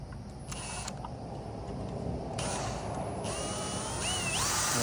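A power tool drives a nut and washer down a length of all-thread rod through gnarled wood while building a heavy-duty hot tub dolly, giving a steady continuous whir that climbs in pitch near the end.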